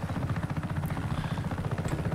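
A helicopter in Just Cause 3 gives a steady, loud rotor thrum with a rapid chopping pulse that stays even throughout, with no voices over it.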